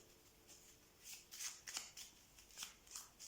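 Tarot cards being shuffled and handled, giving a series of quiet papery riffles and flicks in short bursts with no talking.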